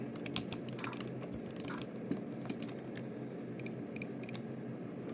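Rapid computer keyboard typing and key clicks during Minecraft play, faint and continuous in irregular bursts, with no voice over it.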